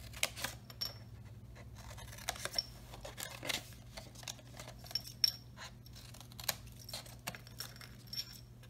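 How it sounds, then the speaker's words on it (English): Scissors snip notches into the score line of cardstock for a papercraft card kit, giving a string of short, crisp cutting clicks and light paper rustles, close and without talk. "basically going to notch in and snip off that score line"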